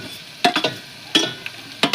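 Chopped chillies hitting a pan with potatoes while cooking poha, giving short bursts of frying and stirring scrapes separated by quieter sizzle, close and moderately loud.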